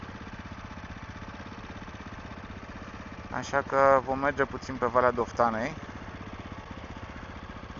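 An SWM Superdual T 600 single-cylinder motorcycle engine thrums steadily with an even low pulse, while a rider talks over it midway.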